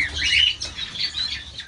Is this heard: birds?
yes